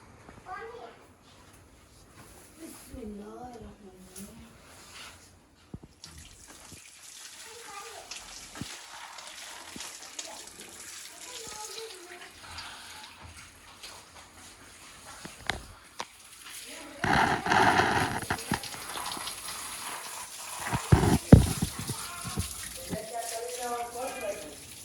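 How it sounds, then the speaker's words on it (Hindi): Water runs from a motor-fed pipe at a home wash area, a steady broadband rush building in the second half, heard under children's and adults' talk and scattered clatter. "पानी चला दो"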